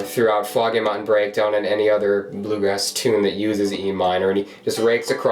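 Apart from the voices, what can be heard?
None of the usual background noises is heard.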